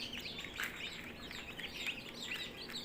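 Chicks in a poultry brood chirp continuously, a dense layer of many small high-pitched peeps close by with no voices.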